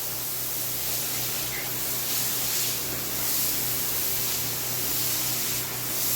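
Soft wash rig spraying soap onto a pool deck floor in Davenport, Florida: a steady, loud broadband hiss of spray that runs unbroken with slight swells, no talking.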